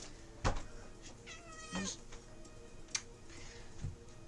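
A house cat meows indoors, giving a couple of short, moderately close calls mixed with scattered knocks and tapping.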